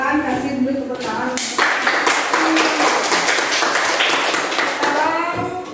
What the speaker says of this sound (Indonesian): Silakan kasih dulu tepuk tangan